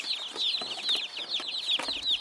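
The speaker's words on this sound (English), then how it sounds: "Baby chick arrival! You heard that right." Baby chicks in a shipping parcel at a post office chirping constantly, a dense, high-pitched flurry of overlapping peeps, close and lively for about two seconds with no talking.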